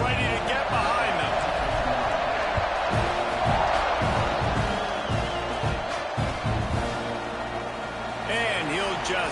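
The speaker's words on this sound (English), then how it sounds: "this crowd now ready to get behind them" A stadium crowd roars and cheers steadily at a college football kickoff, Tennessee at Texas A&M, with a broadcaster talking over the loud, continuous noise.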